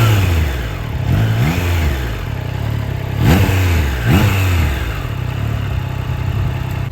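A Triumph Trident 660 three-cylinder motorcycle engine pulls hard through several rising revs in quick succession, loud and close, with steady road and wind noise underneath and no talk.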